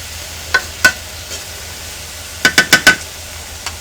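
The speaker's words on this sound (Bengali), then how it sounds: "আমি হালকা তাপে খুব সুন্দরভাবে মিষ্টি কুমড়ার খোসা বেজে নেব" Pumpkin peel being stirred in oil over low heat, a quiet background with scattered sharp scraping and clinking strokes, including a quick run of four close together, loud and near.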